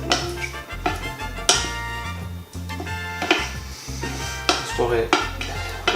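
A spoon scrapes and stirs ingredients in a metal saucepan in rhythmic strokes, with sizzling underneath and occasional clinks of utensil on pan, close and fairly loud.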